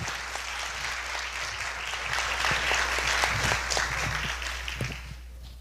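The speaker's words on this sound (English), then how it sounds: "Let's give them another round of applause," Audience applause at a Caribbean youth startup forum, a steady wash of clapping that swells slightly midway and then tapers off near the end, with no voices over it.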